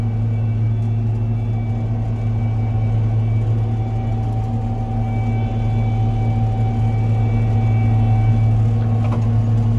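A Gleaner R72 combine with a 35 foot head harvests soybeans, its engine holding a loud, steady, close droning hum heard from inside the cab, with no talk.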